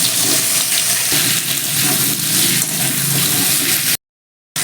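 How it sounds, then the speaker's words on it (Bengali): Potato and pumpkin pieces fry in a pan for a Bengali prawn curry, making a steady, close sizzle that continues without pause before cutting off abruptly near the end. "এবার আমি আলু আর কুমড়োটা আগে দিয়ে দিচ্ছি ঝিঙেটা একটু পরে দেবো"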